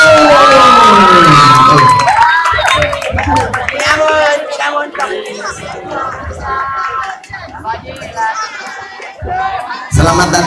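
Children at a school entrepreneurship showcase cheer, shout and clap loudly for a presenting group, a close, busy burst of high voices and scattered claps that rises and falls over about ten seconds.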